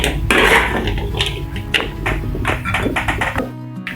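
Fried salted fish with chili and petai being moved into a bowl, busy clatter of a utensil scraping and tapping against a pan and dish, close and loud, ending abruptly.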